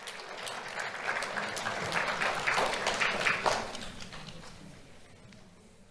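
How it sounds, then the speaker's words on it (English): Applause from an audience at a sheriff's office awards ceremony honoring a second-grade student, a steady wash of clapping that swells toward the middle and then tapers off. "Let's have a round of applause for Noelia Munoz."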